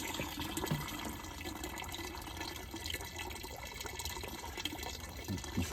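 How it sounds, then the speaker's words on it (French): Steady rushing water pours from a tap into a Decathlon solar shower container, a continuous even splashing with no voices. "J'ai tourné mon petit bout de bidon sur mon petit robinet sur on. Je viens remplir."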